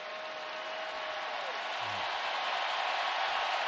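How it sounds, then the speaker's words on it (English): At an LSU versus Wisconsin college football game, a stadium crowd stands and applauds an injured player leaving the field, a steady distant wash of clapping and cheering that holds even throughout. "all of the fans now on their feet and applauding Konrad Zagzebski as he heads off"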